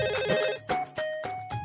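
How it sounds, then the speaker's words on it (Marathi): A telephone ringtone rings in a Marathi TV serial office scene, a repeating electronic melody in short bursts, fairly loud and close, with no talk over it. "उचला तो फोन आधी. तो का असाच वाजत ठेवणार आहात का?"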